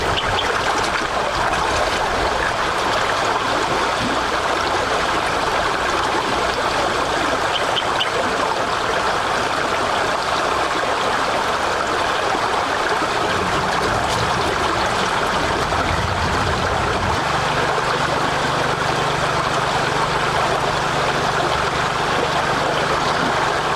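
Steady broadband rush of a river at Riverranch in Tanay, Rizal, flowing continuously and fairly loud throughout, with a low rumble shifting partway and no talking.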